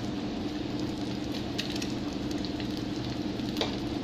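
Boiled eggs for son-in-law eggs fry in hot oil, a steady, dense sizzle with faint crackles and pops that runs unbroken throughout.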